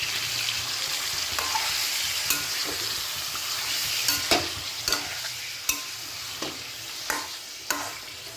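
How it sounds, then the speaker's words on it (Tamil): Lemon pepper chicken sizzles in a pan on a low flame while a utensil stirs it, scraping and knocking sharply every second or so over a constant frying hiss, close up and with no talking. "இப்போ நல்லா இதை கலந்து விட்டுக்கலாம்."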